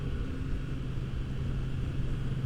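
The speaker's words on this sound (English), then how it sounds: "that motor just sounds so fantastic. I mean, listen to that." A Kawasaki Z900 RS motorcycle engine idles with a deep, steady rumble continuously at a moderate level, with no breaks or revving.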